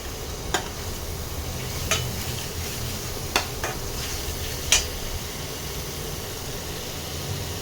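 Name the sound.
spice paste being fried and stirred in a pan for fish curry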